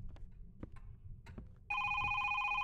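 A phone's electronic ring starts suddenly after a stretch of faint clicks and rustles, then holds loud and steady through the rest.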